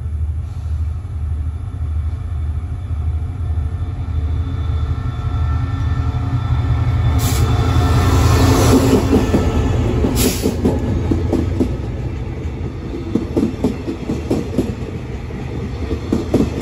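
Thai passenger train number 171 rolling through Lang Suan station at night, with a steady, close rumble and rhythmic clickety-clack of wheels on rail joints that continues throughout.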